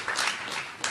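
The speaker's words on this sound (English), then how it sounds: "he deserves a major round of applause" A short burst of audience applause for Ron Chernow at a Hamilton musical talk, a quick, dense patter of many hands clapping at moderate volume.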